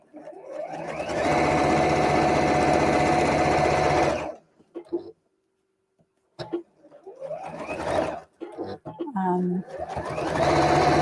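A sewing machine stitching a fabric seam runs in a fast, even whir for about four seconds, stops, then restarts in shorter bursts with pauses, close and clear, with a voice talking in the gaps.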